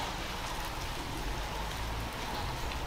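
Steady rain falls outdoors in early spring, a dense even patter on surfaces with a low rumbling wash underneath, close and continuous, with no voices.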